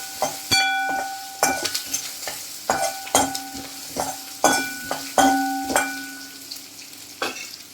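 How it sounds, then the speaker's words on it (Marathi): Onion sautés in a hot pan for a Maharashtrian matki usal, with loud repeated stirring scrapes and clacks of a spoon over a soft sizzle, irregular and close up, with no talk. "आणि सगळ्यात शेवटी कांदा कांदा पण असं छान परतून घ्यायचा आहे"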